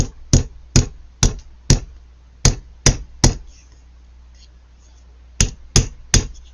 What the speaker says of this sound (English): I'm going to give it some taps in the bead protector